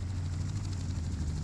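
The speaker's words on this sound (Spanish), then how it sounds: "Helicóptero." A helicopter in the video game Just Cause drones with a steady rotor throb and engine rumble, continuous and moderately loud with no talking.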